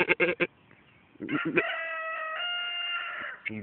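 A rooster crows once in a long, loud, close cock-a-doodle-doo, preceded by a few short clucking bursts and followed by a brief trailing noise.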